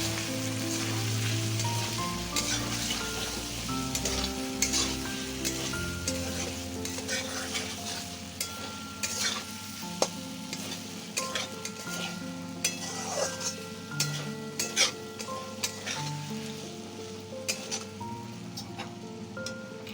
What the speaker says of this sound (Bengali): ক্যাপসিকামটা যাতে ভালো করে ভাজা হয়ে যায় তার জন্য অল্প একটু লবণ ছড়িয়ে দিলাম